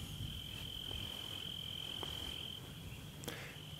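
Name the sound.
crickets and frogs chirping outdoors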